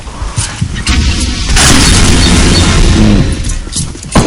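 A loud RPG rocket blast in a video game, a heavy booming crash that swells and sustains for several seconds with debris-like rumble, alone without talk.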